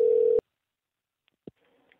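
A telephone tone over a phone line, a steady beep lasting under half a second, followed by near silence with a faint click and a few small noises.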